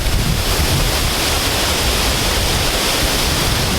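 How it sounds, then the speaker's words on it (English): Roaring 242-foot waterfall throwing spray, a loud dense wash of broadband rushing noise with wind buffeting the microphone, constant and close throughout. "But this is the waterfall."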